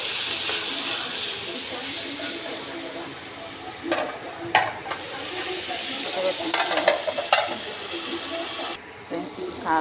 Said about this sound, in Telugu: పసుపు మగ్గనిద్దాం ఫ్రెండ్స్. కొంచెం కలుపుకొని